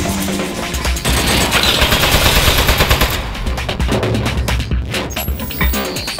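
Turret gunfire rattles in rapid automatic bursts in the video game Aperture Desk Job, loud and close, a dense stream of shots that breaks off into separate cracks near the end.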